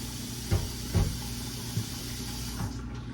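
Water streams steadily with a constant hiss into a metal pot, about 8 cups, broken by a few dull knocks against the pot.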